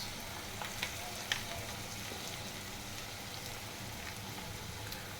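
Sauces poured into stir-fried veg noodles hitting a hot pan give off a steady close sizzle with faint crackles and a couple of sharp pops.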